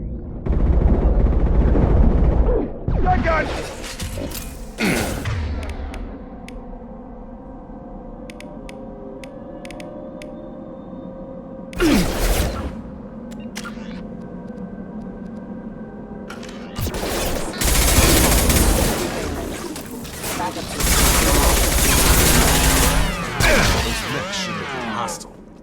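Gunfire rips through a firefight in Mass Effect 2, loud bursts of shots coming in several clusters with quieter gaps between, the volleys swelling into heavy, sustained fire near the end.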